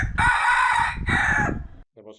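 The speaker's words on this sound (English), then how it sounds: "There was a rooster in almost every one of the simple houses in this village." Rooster crowing in a simple hillside village near Doi Luang Chiang Dao, one close, loud two-part crow that breaks off, followed by a faint short call.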